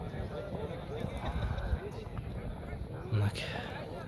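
Racehorses galloping around a long track in a Kyrgyz long-distance horse race, their hoofbeats a steady rumbling clatter heard under an excited commentator's speech.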